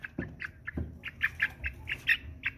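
A six-week-old American Bresse chick, small and short-legged, peeps and chirps in a lively series of high calls, close by, with a few soft thumps between them and no talk.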